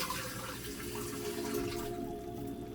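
Water runs steadily into a pot at close range, a continuous splashing flow that tapers off near the end, while measuring eight spoons of water for a stir-fried Bulramen instant noodle dish.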